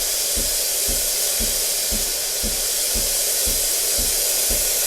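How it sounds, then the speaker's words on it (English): Steam wand on a Breville Barista Express espresso machine blasts a loud, steady hiss for the whole stretch, with a faint rhythmic thumping of the pump pulsing underneath. "But what you want to wait for is the strongest steam you can get."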